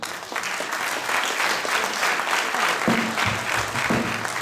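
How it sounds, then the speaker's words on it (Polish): An audience at a New Year's gathering of the Polonia Środa Śląska sports club applauds a girls' team, steady dense clapping throughout, fairly loud and close. "wielkie brawa dla dziewczyn"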